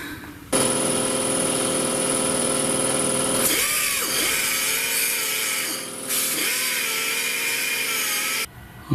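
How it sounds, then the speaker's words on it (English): A Sawzall reciprocating saw cuts through a seized transmission bolt on a Chrysler Town & Country, giving a loud, continuous buzzing rasp that runs for several seconds, dips briefly, then stops abruptly. "cutting this one off with a sawzall because I couldn't get the death wheel to fit up in there"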